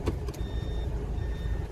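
Toyota Prado reversing alarm sounding when the vehicle is put into reverse: two thin, long electronic beeps spaced apart over a low engine rumble, with a brief knock at the start.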